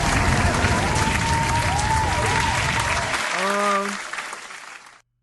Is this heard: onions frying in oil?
no